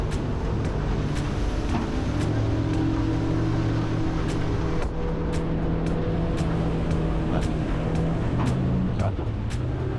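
A Yamaha F115 outboard drives an Extreme Boats 545 Sport Fisher through a sharp turn, giving a steady, loud engine drone with rushing water and wind beneath a person talking.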